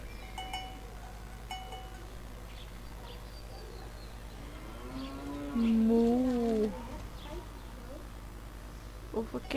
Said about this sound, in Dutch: En dan ga ik koeien melken.